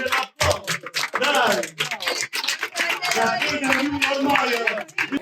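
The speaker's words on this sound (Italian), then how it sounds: "Glielo facciamo un bel applauso." An audience applauds footballer Christian Garofalo, whose story runs from Fuorigrotta to winning the Under-17 European Championship with Italy. The clapping is a dense, continuous burst, and voices talk over it.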